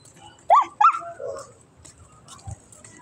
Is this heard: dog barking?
yes